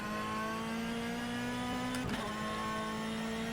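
A Ferrari 458 GTE race car in rFactor 2 holds a steady, loud engine drone at constant revs, with a brief burst or gear change midway before the note settles again.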